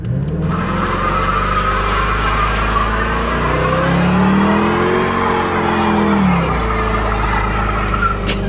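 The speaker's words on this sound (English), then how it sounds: "It does a burnout." A 2002 Ford Thunderbird does a burnout, its engine roaring loud and close with a sustained rev that rises and falls while tires squeal throughout.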